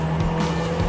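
A Porsche racing in Forza Horizon 5 brakes hard with a short, close tire squeal over its engine drone, lasting about a second.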